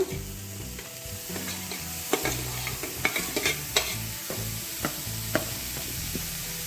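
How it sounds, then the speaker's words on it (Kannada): Crumbled paneer being fried with onions in a pan, with a steady close sizzle and repeated clattering stirs and scrapes of a spatula against the pan. "ಈಗ ನೀರುಳ್ಳಿ ಫ್ರೈ ಆಗಿದೆ ನಾವು ಪುಡಿ ಮಾಡಿಕೊಂಡಿರುವ ಈ ಪನ್ನೀರ್ ಸೇರಿಸ್ಕೊಳ್ಳೋಣ"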